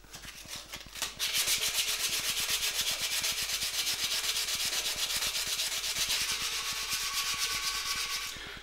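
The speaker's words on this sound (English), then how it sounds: "If your dust turns black, you sand too deep into the carbon fiber, so be careful." White paint is sanded off a carbon fiber bicycle frame by hand, a rapid rhythmic rasping of back-and-forth strokes, close and steady, starting after a brief quieter scuff.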